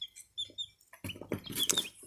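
Four-day-old cream Legbar chicks peep in bursts, close by, with quiet gaps, then a busier run of overlapping high chirps.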